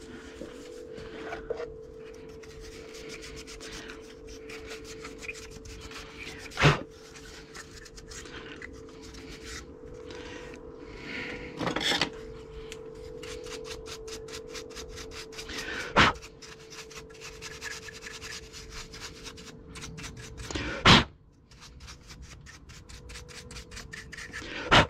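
A part from a Citroen Xsara Picasso 2.0 HDi engine is rubbed clean during a fuel and air filter change, a steady scratchy scrubbing sound with a constant hum underneath and a few sharp knocks.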